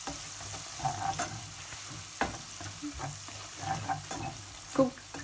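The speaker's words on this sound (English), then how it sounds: "And just cook this for a little bit now, a few minutes." Spices frying on low heat in a pan, a gentle continuous sizzle broken by scattered clinks and scrapes of stirring, with a sharper knock near the end.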